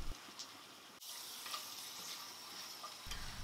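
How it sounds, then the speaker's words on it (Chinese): Ginger slices, bay leaves and star anise frying in hot oil, a steady soft broadband sizzle with faint crackles throughout, a brief cut near the start and a louder rustle at the end. "油热之后先下姜片、香叶还有八角炒香"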